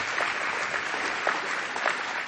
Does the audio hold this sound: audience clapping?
yes